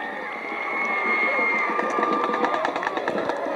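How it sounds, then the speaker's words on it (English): A football stadium crowd at a 1991 Halifax at UDA game roars and cheers wildly, a loud, steady wash of voices that swells and stays high throughout. "a big clip, and crowd absolutely berserk"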